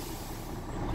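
Steady, loud hiss of compressed air from a truck's air brake system during a CDL pre-trip air brake inspection, continuous for a full second.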